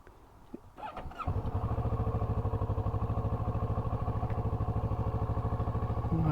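Kawasaki Ninja 650 motorcycle with a cold engine: a starter crank catches after about a second, and the engine settles into a steady, loud, pulsing idle close by.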